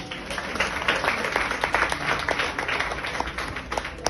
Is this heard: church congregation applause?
yes